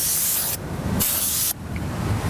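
Black aerosol spray paint can hissing onto a car in bursts, loud and close: one long continuous spray, a short break, a second sustained burst, then quieter hiss.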